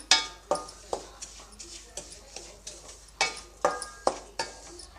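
Dharwad peda mixture of milk powder and ghee stirred and fried in a pan, a spoon scraping and knocking against the metal in a steady series of sharp clinks, close and fairly loud.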